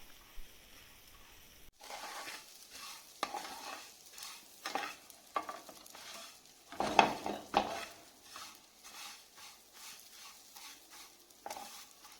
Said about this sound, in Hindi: मक्खन गरम हो गया है और हम अभी इसमें सेवइयों को भून लेंगे।